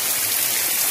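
Heavy rain falling steadily on a Saturday in February, a dense, even hiss of drops on surfaces close by, with no voices.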